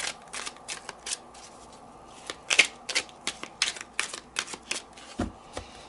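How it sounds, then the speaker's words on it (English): Stiff-cardstock tarot cards are overhand shuffled in quick, uneven bursts of soft slapping and riffling, close and fairly quiet, with brief pauses between runs. "The overhand shuffle is really beautiful."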